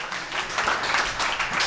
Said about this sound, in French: Donnez-vous une bonne main d'applaudissements.